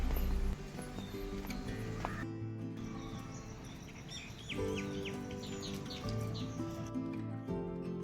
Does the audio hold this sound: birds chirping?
yes